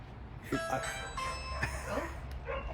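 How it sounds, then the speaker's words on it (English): Dogs bark a few times at a distance, short yelping calls spread out amid background noise. "I hear dogs. More dogs."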